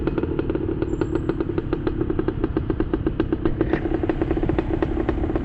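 A Yamaha DT two-stroke motorcycle engine idles nearby with a loud, steady, rapid putter that rises slightly near the end. No one speaks over it.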